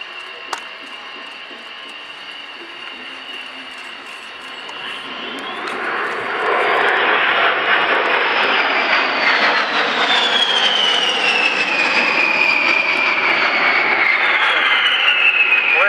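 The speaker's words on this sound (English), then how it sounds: "and now Sean, the Vulcan is set to display." An Avro Vulcan jet bomber flies a display at RIAT, its jet engine roar swelling from a distant whine into a loud, broad rush with a high howling tone as it passes.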